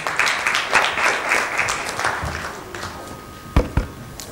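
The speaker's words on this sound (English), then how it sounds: "let's give him a loud round of applause," At a business talk on entrepreneurship, the audience gives a round of applause that swells and then thins out, ending in a few last loud, separate claps near the close.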